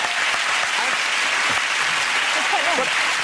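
Studio audience on a TV chat show breaks into a round of applause for a couple together eleven years, a dense, steady wash of clapping at full strength throughout, with faint voices mixed in.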